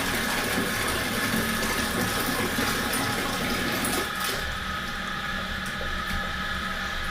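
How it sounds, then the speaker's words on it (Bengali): Running water during a pet's shampoo bath: a steady, continuous rush of flowing water that stays close and even, softening slightly partway through, with no speech. "তুই শ্যাম্পু দিয়ে চান করছিস"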